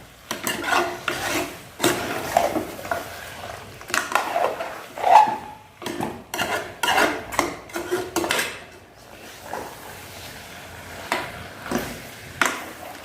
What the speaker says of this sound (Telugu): ఇదిగోండి కూర ఉడికిపోతుందండి.